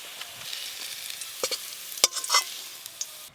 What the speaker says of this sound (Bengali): রসুন আর পেঁয়াজ কুচি একটু ভালো করে লাল লাল করে ভেজে নিয়েছে